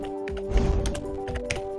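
Quick irregular key taps on a computer keyboard while entering a new password, close and moderately loud, over a steady humming tone and a brief rustling swell.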